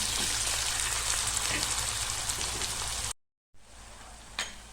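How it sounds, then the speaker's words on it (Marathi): Chopped onion frying in oil in a pan, a dense steady sizzle like rain on a surface, which cuts out briefly and returns quieter with a small clink near the end. "कांद्याला पण चांगलं परतून घ्या"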